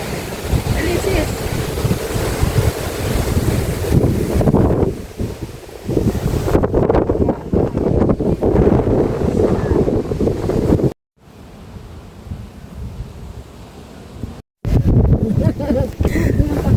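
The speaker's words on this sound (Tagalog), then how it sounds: "Lamig ng simoy ng hangin." Strong wind buffets the microphone in loud, rough gusts, with brief lulls, while people talk faintly beneath the rumble.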